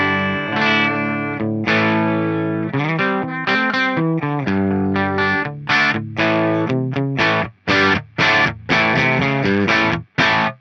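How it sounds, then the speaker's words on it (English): Electric guitar played through a pedalboard with Revv distortion, Eventide and EHX effects including delay and reverb, loud sustained distorted chords and notes in a steady rhythm, ending with sharper choppy stabs, played alone without talking. "I'm going to shut up and play my guitar."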